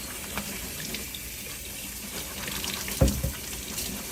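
Tap water runs steadily into a sink while an aquarium filter is rinsed, with a soft broadband hiss and a brief louder splash or clatter partway through.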